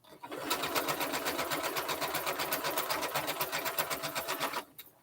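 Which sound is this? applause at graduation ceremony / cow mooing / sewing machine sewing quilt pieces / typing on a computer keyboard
sewing machine sewing quilt pieces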